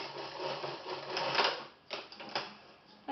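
A sewing machine runs gently to stitch a zip into a garment, back-stitching as it goes; a faint, steady mechanical whirr gives way to a few sharp clicks near the end.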